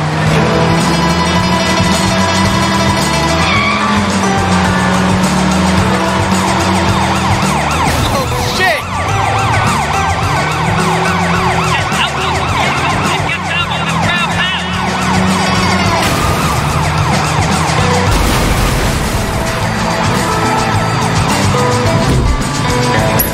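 Police cars chase with wailing sirens in the Sleeping Dogs video game, siren tones rising and falling steadily and loud over engine and traffic noise throughout the chase.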